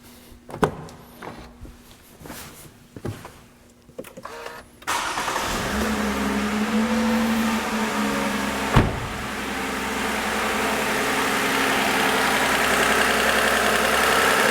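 A Toyota 2GR-FE V6 with 11,000 miles starts after a few faint clicks and knocks, catches with a sharp rise, then settles into a smooth, steady idle, heard close and alone.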